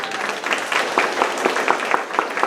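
Members of a church congregation clap for the Lord, a steady run of fairly loud, distinct handclaps at a brisk pace with faint voices underneath.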